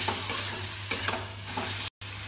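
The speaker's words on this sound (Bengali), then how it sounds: "চিকেনগুলো ভাজা হয়ে গেছে।" Chicken fries in a pan with a soft, continuous sizzle, broken by light scraping and clicking stirring strokes at irregular intervals and one brief dropout near the end.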